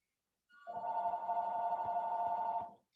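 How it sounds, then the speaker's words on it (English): A telephone rings once in the background, a sustained electronic warbling tone lasting about two seconds, starting after a brief silence and cutting off cleanly. "Sorry about the phone ringing in the background there."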